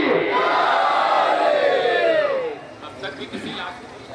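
A large crowd roars a loud unison religious chant at a Jashan-e-Abu Talib celebration in Karachi, voices sweeping together for about two and a half seconds before fading into scattered shouts.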